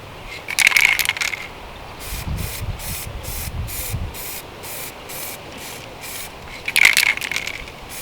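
Spray paint hisses from a can held far back over a stencil taped in place outdoors in the wind, in two short bursts near the start and the end, with faint rhythmic background noise between them.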